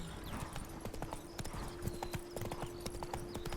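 Roach the horse's hooves clip-clop in a fast steady galloping rhythm in The Witcher 3 video game, continuous and fairly quiet, with no voices.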